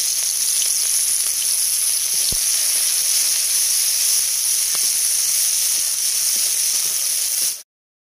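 Chopped onion goes into hot oil in a wok, already used for frying fish, and gives a loud, constant hiss with a few faint pops. The sizzle stops abruptly just before the end.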